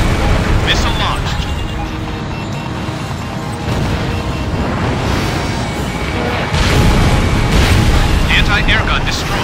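Booming explosions of an air gun emplacement being destroyed in the Ace Combat Infinity combat flight game at Avalon Dam, rumbling under steady F-35B jet roar, with heavier blasts near the end.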